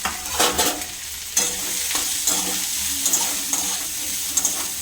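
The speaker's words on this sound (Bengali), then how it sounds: "এবারে ভালো করে সবগুলোকে ভেজে নিতে হবে" Ginger, onion and carrot fry in a pan with a little oil for homemade momos, a bright continuous sizzle broken by scraping stirs and a few louder spatula knocks, close and with no voices.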